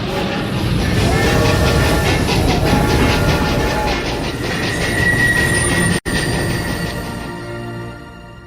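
A passenger train departing, loud and close, with continuous rumbling and rhythmic clickety-clack of wagon wheels on rails, a faint high squeal partway through, and a brief dropout before the noise continues.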